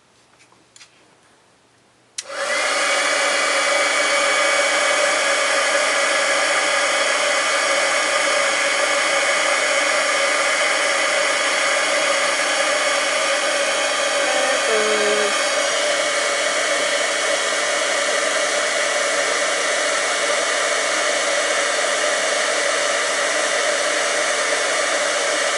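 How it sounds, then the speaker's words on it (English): A heat gun blasts steadily while heat embossing a card sentiment, switching on abruptly and holding a loud, constant airy roar from then on. "let's heat emboss this real quick"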